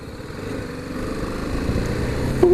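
A BMW G 310 GS motorcycle rides along a rough road. Its engine holds a steady buzzing hum that swells slightly toward the end, with no talking.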